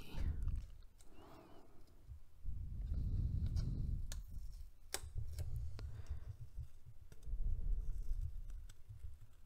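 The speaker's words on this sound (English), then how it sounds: "for people who like that sticky finger sound, I'll play with the tape here for a minute" Fingers press and peel at very sticky tape close up, making irregular crackling ticks and soft tacky pops with some low rustling handling noise.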